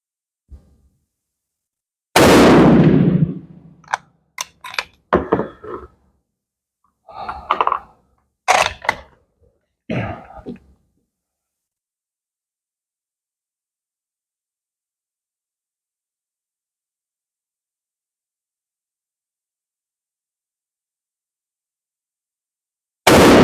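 An Enfield No5 rifle fires a reloaded round: one loud, sharp blast that rings out, then a few shorter, softer clattering knocks before the clip falls silent.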